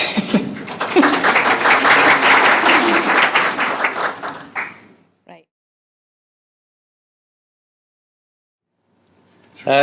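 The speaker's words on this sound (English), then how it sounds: "I think Wilbert deserves a round of applause for that." Conference audience at a plenary session bursts into applause, loud continuous clapping for about four seconds that quickly tapers into silence, with a voice briefly heard at the end.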